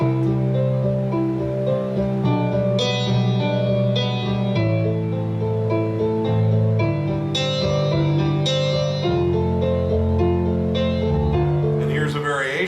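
Soft, sustained piano chords ring out slowly and gently, notes overlapping in a calm, flowing ballad with no one speaking.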